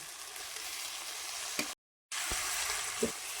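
Tomatoes frying in onion masala with ginger-garlic paste for dried Bombay duck masala, a soft steady sizzle with a couple of light stirring knocks, broken by a brief total silence midway.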